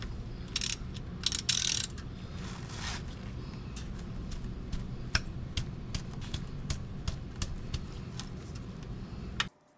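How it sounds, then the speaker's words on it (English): A hand ratchet rapidly clicks in short, evenly spaced ticks while an 11 mm bolt is backed out of the transmission pan on a 2015 Ford Explorer, heard up close over a low background hum, with a brief scraping rustle near the start. "let's go ahead and take that little bolt out"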